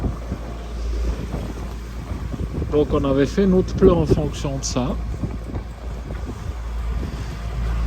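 Strong wind of about 20 knots blowing across a sailboat heading upwind off the Greek islands, a constant close roar and buffeting on the microphone beneath someone speaking French.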